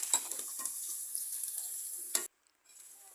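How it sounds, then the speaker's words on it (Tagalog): Garlic frying in hot cooking oil for a Filipino pork kaldereta, a steady bright sizzle with a few stirring clatters, loud and close, cutting out briefly before the sizzle resumes more quietly. "magpapainit na po tayo ng mantika. Unahin ko po yung bawang."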